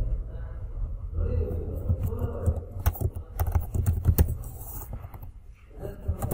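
Computer keyboard typing while writing JavaScript code, a run of soft clicky keystrokes close by over a low hum of background noise, with no talking.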